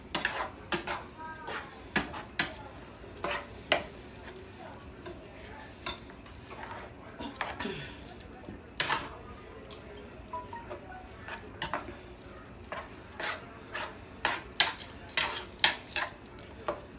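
A spoon stirs sausage and meat sauce in a pot for spaghetti, giving close, irregular scrapes and clinks over a soft background sizzle.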